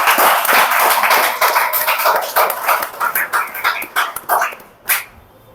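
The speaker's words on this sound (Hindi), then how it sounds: "अपने लिए जोरदार तालियां बजाएं" Students at a coaching institute celebration clap loudly for themselves in a loud, close round of applause that thins out into scattered individual claps before stopping.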